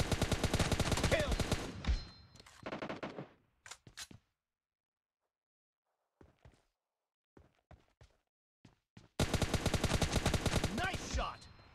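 Loud bursts of rapid automatic fire from PUBG Mobile Lite open and close the stretch, separated by a near-silent gap with a few sparse clicks and single reports.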